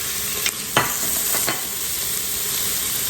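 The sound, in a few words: sauteing garlic and vegetables in a pot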